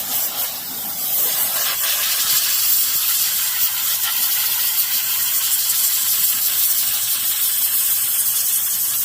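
A steam cleaner sprays onto the coil of a PTAC air conditioner, producing a loud, continuous close-up hiss that holds steady throughout with no talking.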